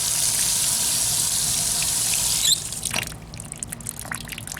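Water splashes and runs over an Innokin Adept vape device outdoors, a steady wet rush that breaks off partway and leaves scattered drips and trickles.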